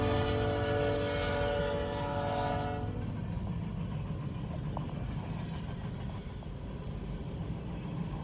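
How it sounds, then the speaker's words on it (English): A Canadian National mixed freight train led by two GEVO locomotives sounds a loud, sustained horn blast. A broad, steady rumble of rolling cars follows and continues to the end. "the second train was another Canadian National Mixed Freight with 2 GEVOs."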